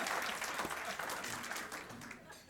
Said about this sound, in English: Please give Senator Ben Allen another round of applause.